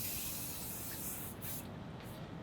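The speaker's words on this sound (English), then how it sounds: "So spray this down with a little bit of canola oil." Canola oil sprayed from an aerosol can onto the drip pan of a Lone Star Grillz IVS grill: a steady, close hiss lasting a couple of seconds, with two short breaks near the end.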